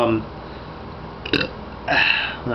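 A loud burp from one person near the end, preceded by a brief throaty sound.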